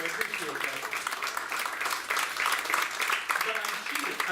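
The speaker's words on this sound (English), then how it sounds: "Oh, pity clap." A small audience at the Parlor of Mystery offers brief, sparse pity applause during a magician's three-rope routine, a thin patter of claps running under his steady talking.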